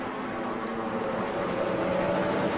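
A loud TORC Pro 4 race truck engine drones steadily at high revs near 9,200 rpm at the start, its pitch holding and slightly climbing over a couple of seconds, close and sustained.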